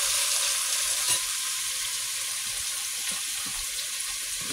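Food, apparently green beans spread across the bottom of a pan, sizzles and fries steadily with a broad hiss, broken by a few soft stirring knocks.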